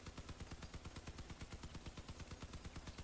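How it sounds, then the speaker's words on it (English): A LM54 Short machine gun fires in the video game Crossout, a fast, even stream of rapid shots rattling steadily throughout at low volume. "so now I'm gonna test like machine gun LM54 short"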